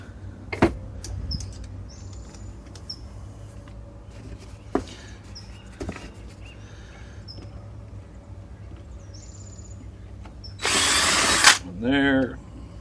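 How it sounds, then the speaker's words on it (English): A power drill bores holes into a dried gourd, with a few short bursts of whirring and a louder sustained drilling run near the end, amid quiet handling noises and no speech. "let's drill a couple holes."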